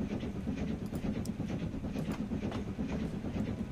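A passenger train in the video game Transport Fever 2 rumbles steadily with a low, continuous rolling drone and faint rhythmic clatter of wheels on track, heard alone at a constant, fairly close level.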